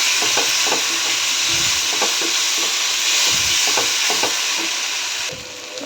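A spoon stirs tomato sauce together in a hot pan for homemade pasta, with steady sizzling hiss and repeated soft scraping strokes, close and continuous with no talking.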